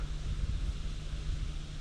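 Steady wind buffeting the microphone outdoors by clear water with small waves while fishing, a low continuous rumble with a faint hum and no voices.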